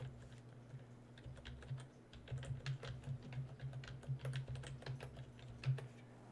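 Soft, quick keystrokes patter on a computer keyboard in irregular bursts, close but quiet, with no talking.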